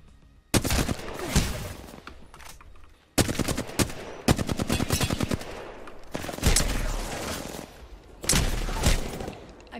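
Rapid bursts of automatic gunfire in the Apex Legends video game, loud and close, coming in several dense volleys separated by brief pauses.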